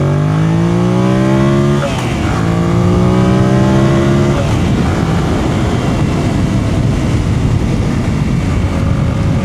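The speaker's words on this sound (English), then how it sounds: "we'll take off from second gear as well" A brand new motorcycle pulls away from second gear, its engine revving loud and close with rising tones that shift as it accelerates, steady roaring engine and wind noise throughout.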